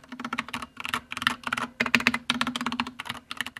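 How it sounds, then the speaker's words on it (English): Keys on a custom mechanical keyboard with Cherry Red switches are typed in quick, uneven bursts of crisp clacks, close and clear, with short pauses between runs and no talking. "it's a fun keyboard, and it feels really nice"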